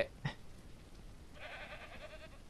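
A goat in the farming video game Ranch Simulator gives one drawn-out bleat, moderately near and fairly quiet, after a short thump.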